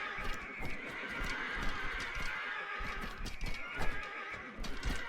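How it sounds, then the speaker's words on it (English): Horses in the strategy game 0 A.D. neigh and whinny repeatedly over a dense, busy din of hooves and battle clatter, loud and continuous throughout. "I'm hearing horses getting slaughtered"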